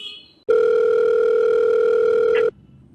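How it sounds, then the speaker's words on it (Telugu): A telephone ringback tone from an outgoing call, a single loud, steady electronic tone lasting about two seconds that starts and stops abruptly, with quiet room sound on either side. "వేరే కాల్ చేస్తాను"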